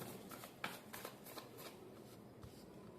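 Tarot cards are shuffled by hand in a quiet room, giving a series of soft, close riffling and snapping bursts with small pauses between them.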